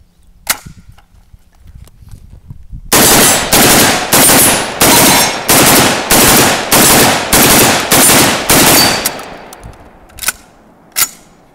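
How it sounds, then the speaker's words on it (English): Saiga 12 shotgun with a Tromix build and a 20-round drum firing Remington double-aught buckshot: a lone shot, then about ten loud, evenly spaced rapid blasts in a steady string, followed by two more separate shots. "do a little drill with a 20-round drum, see how it runs. We're going to be running some Remington double-aught buck out of it"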